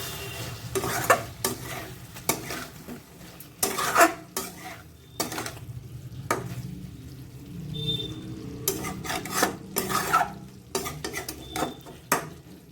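A spoon scrapes and stirs sugar through cauliflower roast in a pan, giving repeated close clinks and scraping strokes over a low, steady sizzle, with short pauses between strokes.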